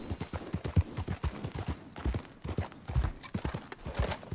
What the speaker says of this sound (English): I'll just get my horse ready to go in case we have something close by.